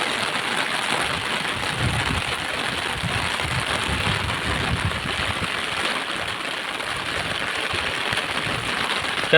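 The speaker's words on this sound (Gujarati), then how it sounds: "વરસાદ બહુ પડે પણ" Heavy rain pours down steadily in a dense, unbroken patter, loud and close with no voices over it.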